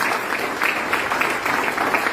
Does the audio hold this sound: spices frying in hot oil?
no